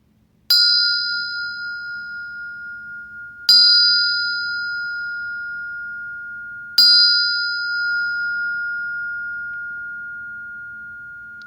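A meditation bell struck three times at slow, even intervals, each strike a bright clear ring with a long sustained hum that fades slowly, heard alone in a quiet room.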